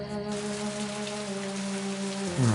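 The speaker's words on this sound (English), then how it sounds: "Just a drizzle. It's going to get much worse." Light rain drizzles steadily in the And Then There Were None video game, a constant patter under a sustained, low musical drone with no speech.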